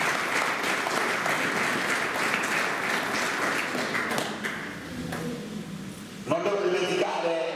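Audience applauding at a live nativity presentation in Panettieri, steady dense clapping for about six seconds before thinning out, with voices and a few sharp taps near the end.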